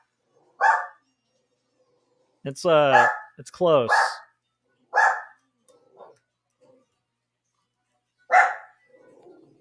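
Small dogs, a teacup chihuahua and a poodle, give a few short sharp yips and barks spread across the stretch, with people talking in between.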